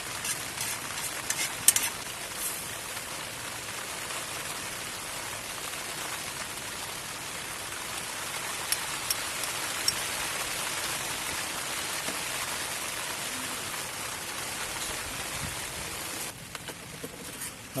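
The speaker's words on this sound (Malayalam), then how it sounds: "ശാന്തമായ മഴ തന്നെയാണ്." Gentle, steady rain patters on a surface at a campsite, a soft even hiss with scattered drop taps that stops near the end.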